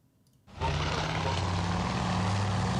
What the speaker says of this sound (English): Hey, there's a float plane.